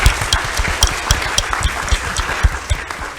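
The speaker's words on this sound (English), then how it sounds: "a round of applause for all of you and for our moderators" Participants and moderators at a workshop recap session get a round of applause, with steady overlapping claps and a few louder, sharper hand strikes standing out over about three seconds.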